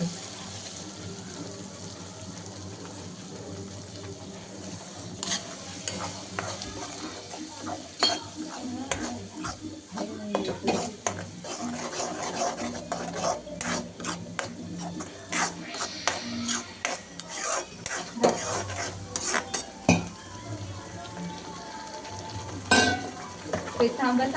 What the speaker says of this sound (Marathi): आता आपल्याला तेलामध्ये तळून घ्यायचं आहे